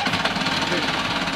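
A sailboat's engine turns over and catches, giving a dense, steady mechanical rattle and knocking drone that fills the whole moment up close.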